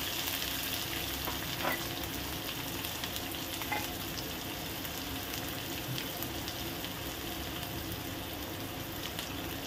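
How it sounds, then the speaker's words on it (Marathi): Curry leaves and chopped onion sizzle steadily in hot oil for upma, a continuous close frying hiss with a few soft stirring clicks and no talking. "छान फ्राय करून घेऊ।"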